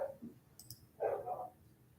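A dog named Bella barks at a man outside, a couple of short sharp barks in a quiet indoor setting, with no talking.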